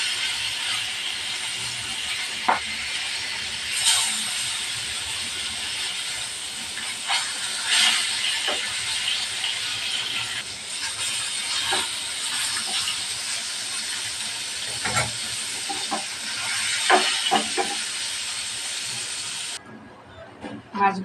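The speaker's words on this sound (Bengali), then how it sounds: "মাছগুলো এক পাশ ভাজা হয়ে গেছে, উল্টিয়ে নেব।" Fish frying in hot oil after being flipped, with a steady, loud sizzling hiss running throughout and a few sharper crackles and pops on top; no talking.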